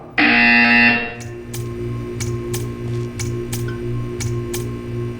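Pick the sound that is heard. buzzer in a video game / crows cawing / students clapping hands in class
buzzer in a video game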